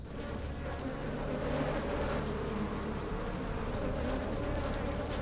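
A dense, continuous hum of countless honeybees buzzing together, loud and steady throughout with no voices.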